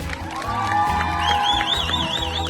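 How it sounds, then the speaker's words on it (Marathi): An audience at a Lavani dance musical cheers with whoops and wavering whistles over a crowd roar and steady tonal sound. "जोरदार टाळ्या उडवल्या"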